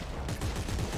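Rapid gunfire aimed at a boss creature in the sci-fi horror game Dead Space 3, a dense, continuous burst of shots heard alone and fairly close.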